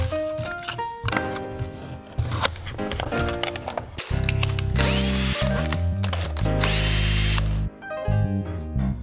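A power drill screws a kiln vent shroud into place, whirring in repeated bursts that stop and start, with the motor pitch rising and falling and one longer, louder run near the middle.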